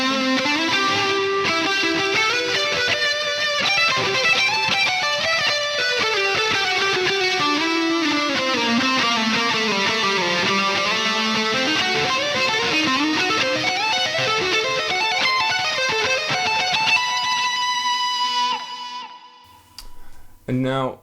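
Electric guitar played through delay and reverb in the amp's effects loop with chorus in front of the amp, producing a dense, shimmering, sustained wash of chords and melody that fades out near the end.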